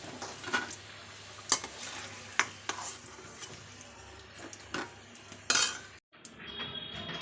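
Fried potatoes, seasoned with salt and turmeric, are scooped out of a pan with a metal spoon and moved into a vessel, giving several sharp clinks and scrapes against a quiet background with faint sizzling.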